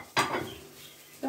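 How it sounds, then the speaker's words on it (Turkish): Ceramic plates set down on a table during a home dinner in Kayseri, Turkey, giving one sharp clatter of dishes and then another clink about a second later, close and fairly loud in a quiet room. "Bu tabakları buraya koyayım da yani."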